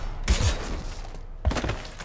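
Gunfire in Mass Effect 2 comes as two bursts of heavy, booming shots, close and loud, with a short gap between them.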